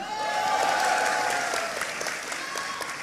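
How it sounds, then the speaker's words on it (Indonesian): A crowd of students, workers and drivers at a public gathering in Sumatra claps together in a sustained, moderately loud burst of applause that fades slightly toward the end, with a faint tone running beneath. "Tepuk tangan."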